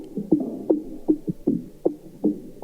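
A sampled drum loop, processed with delay and compression and with extra low end cut by EQ, plays a steady pattern of soft, muffled thumping hits, about two per second, with no voices.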